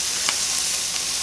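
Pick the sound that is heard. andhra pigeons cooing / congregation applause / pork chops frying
pork chops frying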